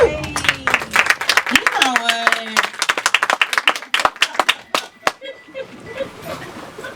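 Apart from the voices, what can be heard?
audience applause at a comedy show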